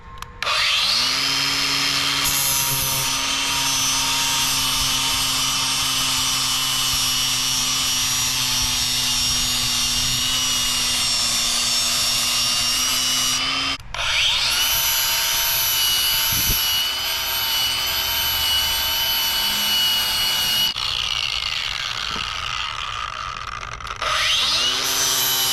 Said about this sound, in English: I just step on one side with my foot, just like this, and then I'll just grind it down.